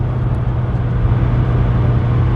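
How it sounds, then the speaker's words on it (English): A 1997 Toyota Corolla CDX, 7th generation, climbs an incline with overdrive switched off so it holds the higher gear. Its engine gives a steady, loud, droning hum from inside the cabin, alone and without talk. "if I just press the overdrive off button, it'll hold the higher gear"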